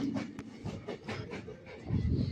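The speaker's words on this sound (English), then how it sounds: "This is a local train passing through." A local passenger train passes near Mehboob Nagar in the Hyderabad area with a steady rumbling roar and rhythmic clatter of railcars, heard close and continuous without speech.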